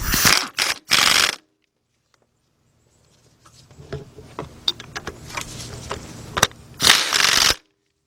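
A ratchet on a 4-inch extension with a 1/2 to 3/8 reducer tightens bolts on a Chrysler PT Cruiser during a timing belt job, with quick clicking bursts and faint metallic ticks in between, close by.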